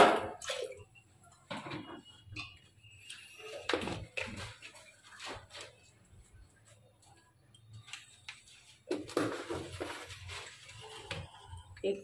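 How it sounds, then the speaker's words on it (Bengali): Water is poured into a cooking pot holding cut potatoes in a home kitchen, heard as soft splashing and dripping bursts with a louder pour toward the end, over a low background hum. "জল দিয়ে দিচ্ছি।"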